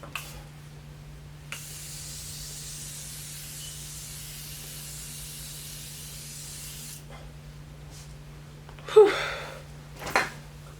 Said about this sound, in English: So we're gonna use our Morphe setting spray,